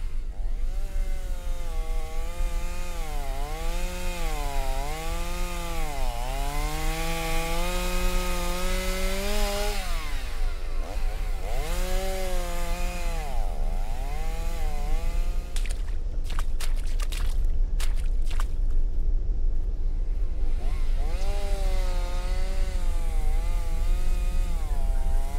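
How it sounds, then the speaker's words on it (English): A chainsaw in the video game Escape the Backrooms drones steadily and loudly throughout, its engine pitch rising and falling in repeated revving swells, with no voices over it. "Hello, Mr. Chainsaw Man."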